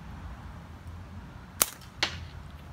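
A pinch-fork slingshot is shot sideways outdoors, giving two faint, sharp snaps about half a second apart over quiet background hiss.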